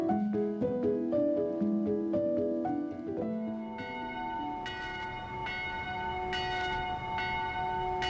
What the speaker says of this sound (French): Ces deux cloches qui se répondent sont celles du clocher de l'église de Mauthausen.